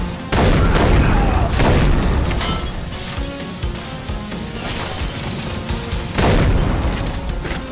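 Heavy gunfire and booming blasts fill a firefight in the video game Far Cry 3 Blood Dragon, loud and sustained, with bursts of shots and repeated heavy impacts layered over each other.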